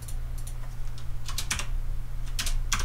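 Computer keyboard typing in Blender, with several quick bursts of key clicks and a caps lock press, close and crisp over a steady low hum, with no talking.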